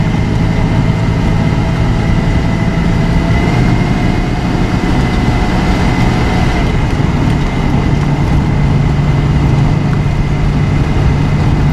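Engine of a LeSharo motorhome with a MagnaShift-controlled transmission, just shifted up into third and running in the normal range: a steady, loud drone with constant hum and road rumble throughout, no talking.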